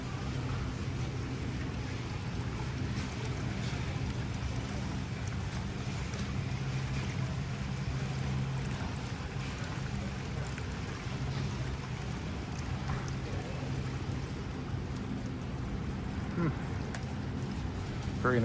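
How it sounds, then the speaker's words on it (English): An outdoor garden fountain splashes steadily, a continuous wash of falling water heard close by beside a gazebo and garden beds, with faint background murmur throughout. "Nice fountain too."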